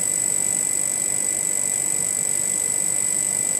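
Electrostatic high-voltage magnetic levitation motor spinning near 3000 RPM and still accelerating, a steady, close high-pitched whine with a constant droning hum beneath, no voices.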